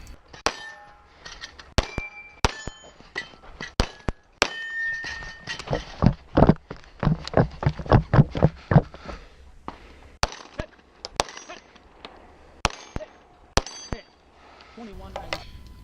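Pistol shots ring out on steel targets set a little farther out at the end of an outdoor pistol stage, sharp metallic clangs spaced irregularly, with a dense rapid burst of shots and hits in the middle, mostly clear with little talk.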